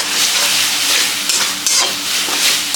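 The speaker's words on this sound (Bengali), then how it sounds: "এখন ভাজতে হবে একটু ভালো করে।" Masala for chhola sizzling steadily in hot oil in a pan, loud and close, with a spoon scraping and stirring through it in occasional strokes over the continuous frying hiss.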